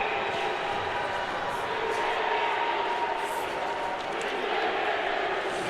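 A high school hockey crowd at an Ohio district final chants and roars steadily at the opposing Patriots in an arena, a dense, continuous wall of massed voices with no clear breaks.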